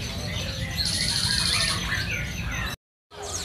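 Australian parakeets in a bird shop, chirping and twittering as a busy layered chorus of high tweets over shop background noise, briefly cut off near the end.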